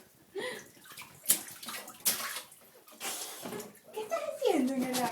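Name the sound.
child splashing water in bath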